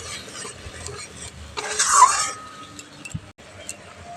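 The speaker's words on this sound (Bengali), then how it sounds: "সর্ষে আর পোস্ত বাটাটা দিয়ে একটু ভাজা ভাজা করে নেব" A spoon stirs mustard and poppy seed paste frying with black cumin tempering in a pan, brief scraping and soft sizzling with a louder burst of stirring midway.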